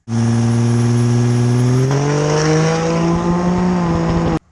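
A 1000HP Cummins diesel truck street racing a Tesla on an old, dusty, partially wet road roars loud and close, its deep engine climbing in pitch through a hard run before cutting off abruptly.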